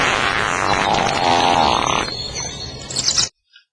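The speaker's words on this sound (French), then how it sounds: "le PET d'un ouvrier." A worker's fart, a long rough buzzing blast lasting a couple of seconds before trailing off into a few sputters, loud and close with no voices.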